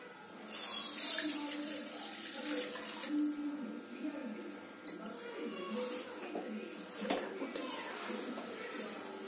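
Water is poured into a cooking pot holding sautéed carrots while making carrot halwa, a splashing pour at the start followed by softer sloshing and clattering nearby.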